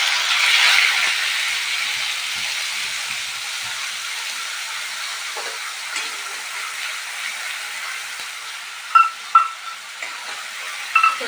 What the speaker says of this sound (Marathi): असं तेल सुटेपर्यंत कांदा टोमॅटो परतून घेत असते